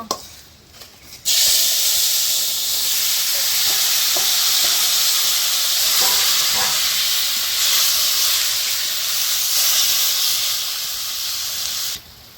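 Whole cumin goes into hot oil for a small fish curry with radish greens and red amaranth, setting off a sudden loud hiss that holds steady for about ten seconds, with light stirring clatter, then cuts off.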